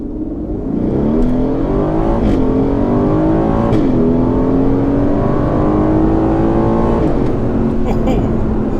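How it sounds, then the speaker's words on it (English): A car launches hard from a standstill, its engine roaring loud and close as the revs climb and fall through several gear changes over about eight seconds of sustained acceleration. "We could do a launch down here."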